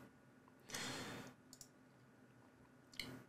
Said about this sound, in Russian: Вы можете кликать мышкой прямо на каждое изображение.